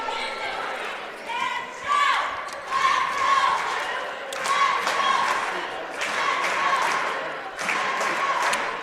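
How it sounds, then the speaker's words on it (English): Nashville Junior Hornets cheerleaders perform their opening cheer in a high school gym before a boys' basketball game, with loud rhythmic chanted voices and repeated claps and thuds over a steady echoing crowd. "We'll let them do their opening cheer for you on the big screen"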